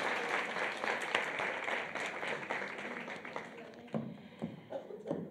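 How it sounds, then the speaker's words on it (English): Audience at the Top Women EmpowHer event in Cape Town applauds, steady dense clapping from a crowd that fades slightly near the end with a few louder claps. "Let's give a huge round of applause."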